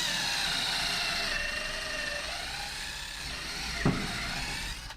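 A power drill bores into a tough board, a steady whining grind with a rising and falling pitch and one brief knock near the end, fairly quiet throughout.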